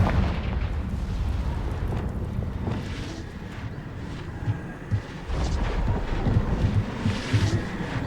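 Repeated Confringo spell explosions in the Hogwarts Legacy video game, a dense, rumbling barrage of booms and blasts that stays loud throughout with no talking.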